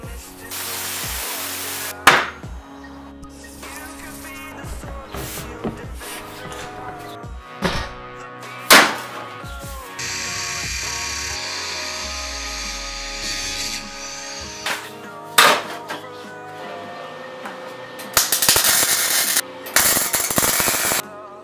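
Power tool cutting away rusted rear lower quarter panels on a Jeep, heard as loud bursts of grinding and harsh metallic noise with sharp bangs and pauses between, including a longer hissing cut near the end.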